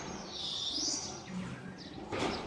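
Rampuri breed pigeons coo and chirp softly, with brief bird calls rising and fading in short phrases at moderate distance, alone without talk.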